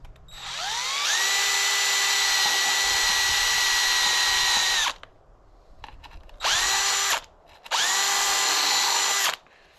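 A power drill bores a half-inch hole in injection-molded plastic: one long loud whine with a spin-up, then two shorter bursts after brief pauses.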